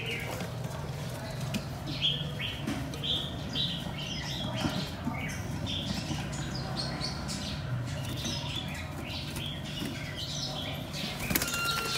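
A red-whiskered bulbul flutters its wings, giving repeated soft flapping bursts with scattered chirps, close by over a steady background hum.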